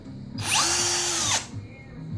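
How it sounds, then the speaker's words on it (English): Power drill mounted on a pedal-driven drill car whirring up to a high whine for about a second, then winding down, close by over a low background rumble. "It's going to squeeze the trigger and move the drill."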